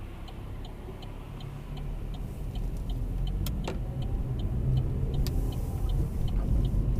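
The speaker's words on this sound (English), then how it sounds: "Get the car moving up toward the speed limit, especially if someone is following." A car pulls away and accelerates along a road during a driving test, a steady engine rumble under road noise that builds gradually, with a faint regular ticking from the indicator.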